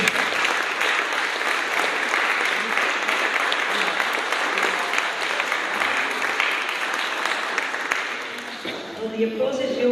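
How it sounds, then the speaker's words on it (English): A gathering at Ruigoord thanks a speaker with sustained applause, dense, even clapping from many hands close by for several seconds before it thins out near the end. "The applause is yours."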